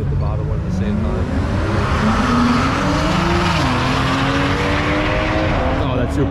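Race cars at a drag racing event at Maple Grove Raceway, a continuous loud engine roar with rising and shifting pitch as the cars accelerate, heard from a fairly close spectator position.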